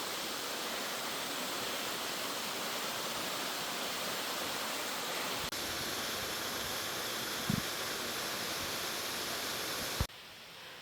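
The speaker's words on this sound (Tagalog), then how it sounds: "Ang ganda ng falls dito." Mountain waterfall along a Benguet hiking trail pours in a steady, dense roar filling the whole clip, close and continuous, with a couple of faint knocks near the end and no talking.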